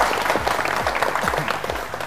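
Group clapping to congratulate a correct answer in a Bible quiz, brisk energetic applause close by, dense and even over a couple of seconds with a faint tonal hum underneath.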